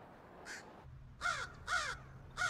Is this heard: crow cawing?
yes